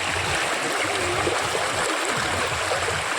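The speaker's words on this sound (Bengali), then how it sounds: "জলের স্রোত" Flowing water of a stream at a family picnic spot, a loud continuous rushing and gurgling current filling the scene close by.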